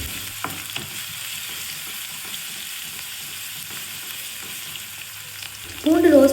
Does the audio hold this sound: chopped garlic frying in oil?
yes